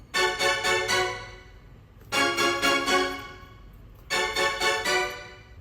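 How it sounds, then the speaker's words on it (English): Short, clipped string notes played in quick rhythmic bursts, three phrases of four or five detached strokes each, with a low sustained hum underneath. "There's also these strings,"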